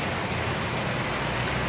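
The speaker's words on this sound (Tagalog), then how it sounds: "Kaso inabutan kami ng malakas na ulan." Heavy rain pounds down steadily during a thunderstorm with flooding, a dense, even roar of water on surfaces with no pauses or voices.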